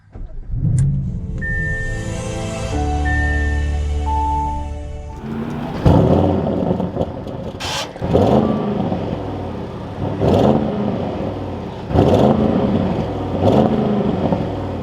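A 2021 Audi RS7 starts with a whirring crank and a sharp roar, then settles into a deep idle broken by four or five close, rising revs that each fall back to a rumble.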